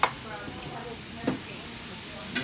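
Veal and mushrooms sauté in a pan for veal Marsala, giving a soft, steady sizzle with a few light utensil knocks and stirs, fairly quiet throughout.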